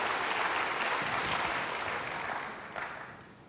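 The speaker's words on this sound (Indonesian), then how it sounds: "Berikan tepuk tangan bagi Tuhan." A church congregation claps together in a steady, dense wash of applause that fades slightly toward the end, with no speech over it.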